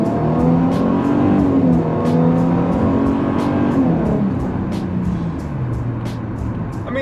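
A Ford Mustang engine revving and accelerating on an old road, loud and close, its rising pitch climbing through a gear change before settling into a steady lower drone.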